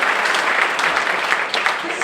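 Audience applause at a South Shore Chamber event addressed by a governor, a short, loud, dense burst of clapping from a crowd.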